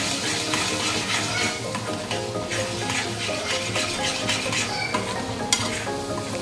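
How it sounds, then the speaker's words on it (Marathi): Red chilli, turmeric, salt and garam masala fry steadily in a pan for paneer masala, a continuous close sizzle with stirring scrapes throughout. "तो पण मस्त फ्राय करून घेऊया मसाले"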